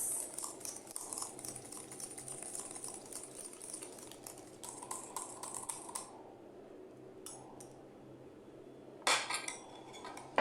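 Utensils clink and scrape quickly against a bowl while cheesy potato fries ingredients are stirred together, close and fairly quiet, with a few sharper metallic knocks near the end.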